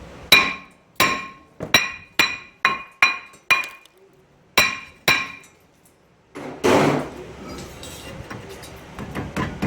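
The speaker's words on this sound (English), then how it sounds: "If not, give it a couple whacks with the hammer." A hammer strikes a car's front brake rotor to knock it loose during a brake pad and rotor replacement, ringing with about ten sharp metallic clangs in a quick rhythm, then a pause before a rougher scraping clatter.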